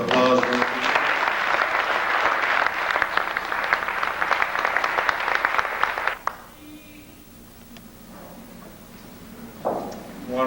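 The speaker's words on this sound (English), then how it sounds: "I think our storytellers deserve another rousing round of applause." An audience gives a rousing round of applause for storytellers at the end of a program, steady dense clapping that lasts about six seconds and then cuts off, leaving a quiet room with a few stray sounds.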